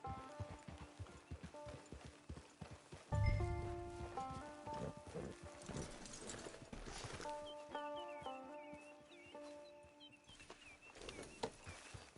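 Horse hooves clip-clop in a PS4 video game, a rhythmic series of close thuds mixed with background music, with a heavier thump early on and the steps continuing throughout.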